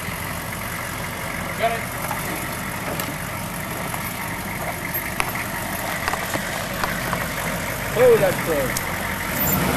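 A smoking diesel engine idling nearby with a low, steady rumble, while people chat briefly over it and a few small knocks and clatters sound.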